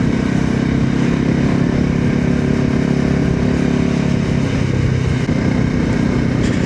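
A VOGE 300 Rally motorcycle engine runs steadily while riding, a loud, continuous mid-pitched drone heard close up and alone with no talking.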